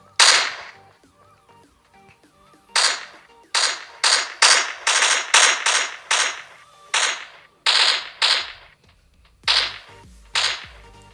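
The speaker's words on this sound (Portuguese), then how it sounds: "meu parceiro tá metendo bala" A partner's gun fires in Hopeless Land, a string of sharp, snappy cracks, some in quick bursts and others spaced by pauses, loud and close with bright echoing tails and no talk over them.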